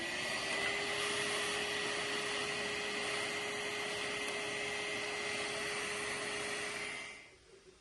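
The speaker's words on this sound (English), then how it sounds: "You're using a little vacuum," Small vacuum cleaner running continuously while cleaning out a serger, a steady whining motor hum with airy rush, close by, then cutting off near the end.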